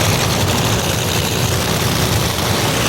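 Nitro drag racing cars at full throttle in a 1988 Super Bowl event, a dense, loud, continuous engine roar filling the whole stretch without a break, no voices heard.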